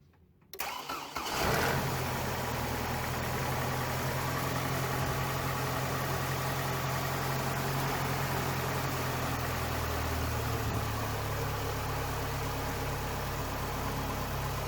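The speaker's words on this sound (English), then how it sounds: "let's start this thing up" A Chevy Colorado truck engine, just fitted with a new fuel pressure regulator, cranks briefly and catches, then settles into a steady, close idle that runs to the end with no talking.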